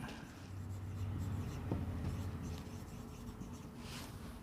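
Handwriting a math example on paper at a steady pace, soft scratching strokes of pen or pencil close by, continuous with no talking.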